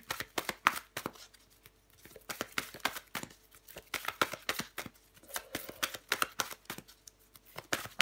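Tarot cards shuffled by hand in rapid, continuous riffling bursts with soft slaps and flicks, close and clear, no voices over the sound.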